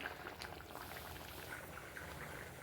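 A pot of spicy Tamil kara kuzhambu curry with brinjal and drumstick bubbles and simmers quietly, with soft, steady boiling sounds throughout.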